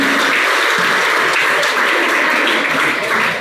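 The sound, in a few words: audience applauding a prize winner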